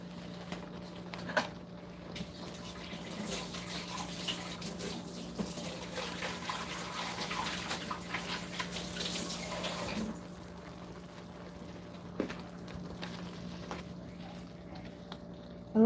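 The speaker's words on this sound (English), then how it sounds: "A little bit of some water." Water pours into a cooking pot of noodles on a home stove, a steady close splashing fill that runs for several seconds, eases off, then gives a few final drips.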